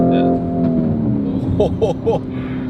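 A Lamborghini Urus Performante engine note rises and falls from inside the cabin, followed by a few short sharp bursts as the driver gets on the throttle, moderately loud.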